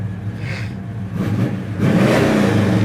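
A 1969 Chevelle SS 396 convertible's engine idles in a low, continuous rumble, then revs up and holds louder near the end, close by and with no talking.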